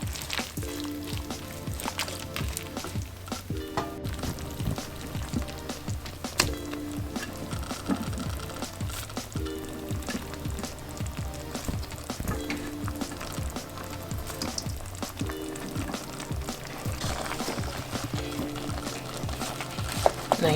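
Broccoli sizzles in a one-pan chicken dish, a steady crackling fry running continuously with clinks and stirring scrapes scattered throughout, close and moderately loud.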